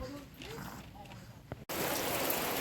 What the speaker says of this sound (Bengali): বৃষ্টি হয়ে যাচ্ছে এক নাগাড়ে শুরু হয়েছে তো আর থামছে না